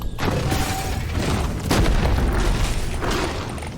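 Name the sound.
exploder enemies exploding in the video game Deep Rock Galactic: Survivor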